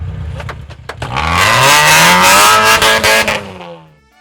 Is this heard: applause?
no